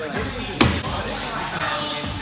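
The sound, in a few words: thrown axe hitting the target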